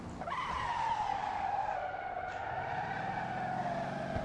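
A car's tires screech in one long continuous squeal while drifting on a race track in the Motor Town game, loud and close with engine drone underneath.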